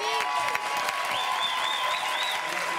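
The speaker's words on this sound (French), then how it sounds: "Je voudrais qu'on l'applaudisse." A studio audience claps in sustained, dense applause for a guest arriving on a French television quiz show, with a few whoops rising over the steady clapping.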